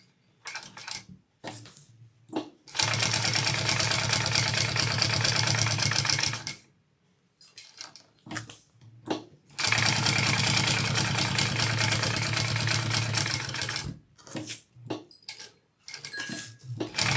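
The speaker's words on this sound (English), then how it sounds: "So now I'm going to top stitch this on." A sewing machine topstitches a bucket bag in two long, loud, steady runs, separated and bracketed by short bursts and quiet handling.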